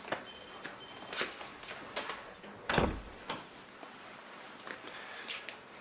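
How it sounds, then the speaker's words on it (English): An interior door is pushed shut in a quiet room, with a single firm thud among a few fainter knocks and footstep-like taps, close by and without voices. "Close the door."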